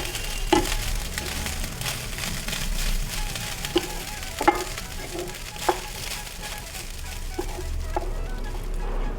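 Udupi-style coconut rice is stirred in a pan over a low flame: a soft sizzle runs throughout, punctuated by several sharp spoon scrapes and clinks against the pan.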